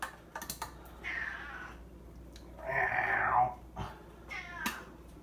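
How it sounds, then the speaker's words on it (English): A pet cat named Ziggy meows loudly for opened tuna indoors, giving two drawn-out close meows with a shorter one trailing off, amid light tapping and rustling. "Listen to that meow."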